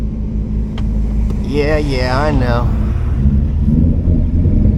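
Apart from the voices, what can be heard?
loud 800whp single turbo Mustang 5.0 engine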